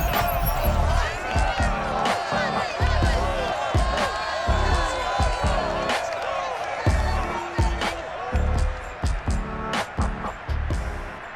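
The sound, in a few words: stadium crowd at Lumen Field in Madden NFL 22 video game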